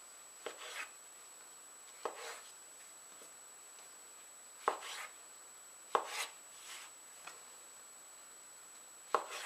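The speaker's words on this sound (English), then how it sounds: "I like to chop these up a little bit just to make them lay a little bit flatter in the pan" A knife chops oyster mushrooms on a cutting board in sparse, quiet, irregular taps spread over several seconds, with a faint steady hum behind.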